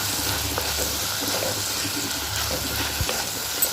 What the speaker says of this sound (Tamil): இதையும் சேர்த்து நல்லா வதக்கி விட்டுக்கலாம். இந்த தக்காளி நல்லா குலைவாக வதங்கணும்.